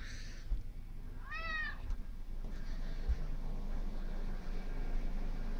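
A domestic cat lets out a single rising, drawn-out meow near the start, close to the microphone, over a steady hiss of indoor background noise with a couple of faint thumps.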